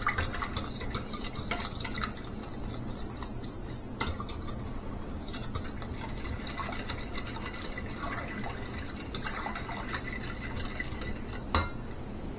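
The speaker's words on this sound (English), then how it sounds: "Let's grab a whipper. Mix this real good" A whisk scraping round a bowl of garlic bread mixture, a continuous close, busy swishing and clinking that holds steady throughout, with no voice over it.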